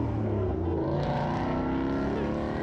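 A five-litre Ford Mustang rumbles loudly with a deep, throaty exhaust note from an aftermarket exhaust system, steady and close as it drives past at a car show in Alderley Edge.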